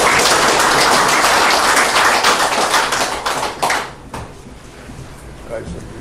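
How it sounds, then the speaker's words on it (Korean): An audience at a lecture forum on political division in Korean society claps to welcome a former lawmaker to the podium. The applause is dense and full for about three and a half seconds, then thins into scattered claps and faint shuffling. "큰 박수로 맞아주십시오"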